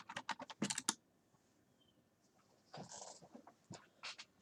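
Quick taps on a computer keyboard while playing a Perry Mason game, a fast cluster of keystrokes at first, then a pause and a few more scattered presses, close and fairly quiet with no voices.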